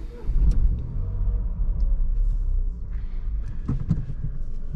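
A Dacia Jogger with a 1.0 TCe three-cylinder turbo petrol engine starts up with a low rumbling catch, then settles into a steady idle heard close from inside the car, with faint clicks near the end.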